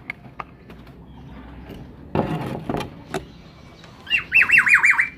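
Two pigeon squabs in a nest give a rapid burst of high, wavering chirps near the end, preceded by quiet handling clatter and knocks close by.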